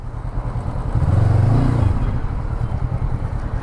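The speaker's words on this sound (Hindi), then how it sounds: "बस बाइकर्स पूरा आ गए।" A group of bikers' motorcycles rolling in on a misty, foggy morning, a rumbling engine drone that swells as bikes pass close by, then settles into a steady mix of idling and revving.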